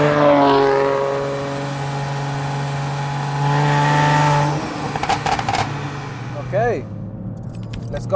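An 880bhp BMW M140i on its first drive revs hard from inside the cabin, the engine note climbing loudly before gear changes and a lift-off, with people talking and exclaiming over it.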